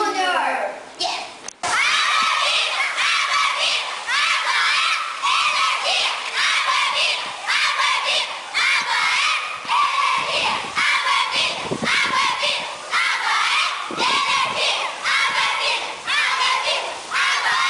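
A school's organised cheering squad chants its battle cry, a loud young crowd shouting in unison with rhythmic bursts and sustained yelling, close and filling the space almost without pause.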